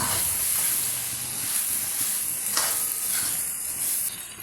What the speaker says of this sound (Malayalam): ഇനി ഇതിലേക്ക് നമ്മൾ നേരത്തെ ഫ്രൈ ചെയ്ത് വെച്ചിരിക്കുന്ന വെണ്ടക്ക ചേർക്കുക